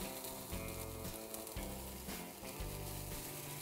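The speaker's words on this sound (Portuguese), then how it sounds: "dá uma fritadinha bem rapidinha no alho, ele começou a murchar, já pode colocar a cebola" Garlic and onion fry in a pan for a pasta with tuna, a dense continuous sizzle and crackle running steadily throughout, close and without talk.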